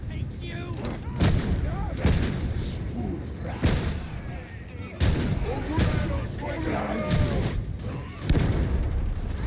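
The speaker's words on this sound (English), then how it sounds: "Barrel's going to blow!" A barrel explodes in Warhammer 40K Darktide amid repeated heavy booms and gunfire bursts, several loud broadband blasts recurring every second or two over a dense, noisy battle bed with shouted voices.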